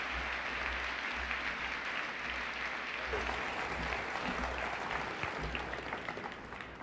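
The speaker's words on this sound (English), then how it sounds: "Let's give a big, big round of applause to Elon Musk." An audience applauds Elon Musk at a talk, a dense, sustained round of clapping from a large crowd that fades slightly toward the end.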